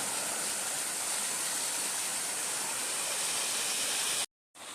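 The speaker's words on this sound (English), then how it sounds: "Waterfall's behind me." A South Carolina waterfall pours in a steady, loud broadband roar, close and continuous, cutting out abruptly near the end before resuming.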